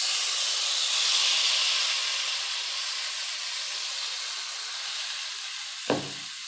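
Ground batter going into a hot pan of sizzling tempering for uppu urundai, a steady loud hiss of steam and frying with one brief thump near the end.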